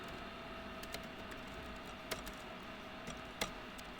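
Sparse keystrokes on a computer keyboard tap out a printf line of C code, a few distinct clicks spaced over quiet room hiss.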